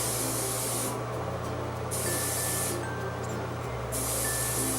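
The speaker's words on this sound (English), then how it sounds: "The reason I like to use a lightweight hairspray" Lightweight hairspray is sprayed onto lifted hair in three short hissing bursts separated by brief pauses, close and fairly loud with no talking.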